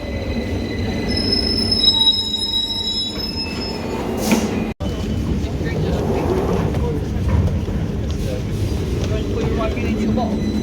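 A train at London Victoria station screeches with high, sustained wheel squeal, layered with rumbling rail noise and platform bustle; people can be heard talking nearby throughout.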